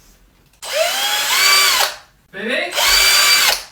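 An electric power drill whines loudly in two bursts of roughly one and a half seconds each, spinning up and winding down, with a brief voice speaking between them.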